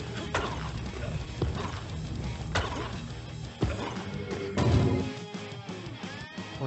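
Horses gallop in the Horse race level of the video game Seum, with clattering hoof beats and sharp knocks over a busy, dense game soundscape, with no voices.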